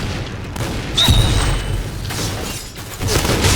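Grenade blasts from the shooter game Point Blank land as dull booming bursts, one sharp hit followed by rumbling and a second blast near the end, with no talk over them.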